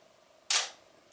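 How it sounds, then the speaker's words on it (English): A single sharp camera shutter click, crisp and close, breaks a quiet room tone and decays over a fraction of a second, with a faint second tick at the very end; a compact camera used discreetly for candid shots at a party. "as soon as that shutter goes off, everyone's going to turn around and look at you."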